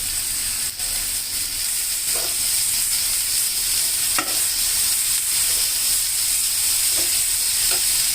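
Bread, egg and broccoli fry in a pan for a sandwich, giving a loud, continuous sizzling hiss with occasional soft scrapes and taps of stirring, and no talking.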